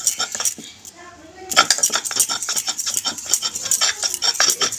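Chicken being crushed and ground on a shil-bata stone makes a run of rapid, gritty scraping and knocking strokes, close and fairly loud, after a brief quieter pause.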